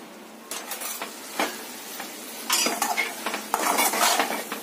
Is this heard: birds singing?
no